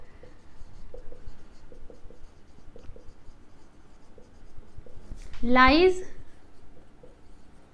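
Chalk or marker writing on a board during a maths lesson on triangles and angle bisectors, a faint scratching under a teacher's voice explaining in Hindi and English.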